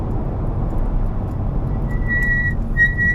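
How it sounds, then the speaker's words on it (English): A high, steady brake squeal from a Ferrari F40 with cold, unwarmed brakes rises twice over a constant low engine and road rumble, sharp and piercing in the last second. "These brakes need to be warmed up. That's why they make so much noise."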